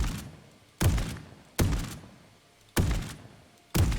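An unsuppressed Mossberg 590 shotgun fires in Fallout 4, four loud, punchy blasts at roughly one-second intervals, each with a booming decay, with no voices over them.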